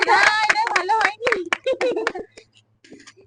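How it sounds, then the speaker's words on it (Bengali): A family at home claps for the mother during a bangle-arranging challenge, with sharp, close claps in quick bursts while children and adults talk excitedly over them, then quiet. "মায়ের জন্য জোরে হাততালি"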